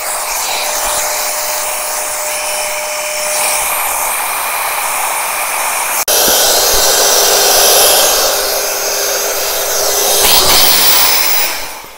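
Parkside PAK 20 Li B2 cordless 20V compressor pump inflates with a loud, continuous airy whine and hiss, with a brief click midway before the pump carries on steadily.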